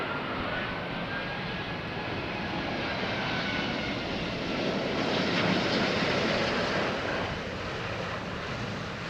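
A fixed-wing aircraft engine drones at a distance during a landing approach in gusty, variable wind, a steady broadband roar with wind noise buffeting the microphone and a slight swell midway.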